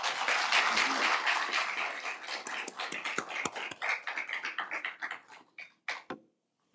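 Audience applause at a Cyber Hankuk University of Foreign Studies presidential inauguration ceremony, starting as a dense burst of clapping, then thinning into scattered separate claps that fade to silence.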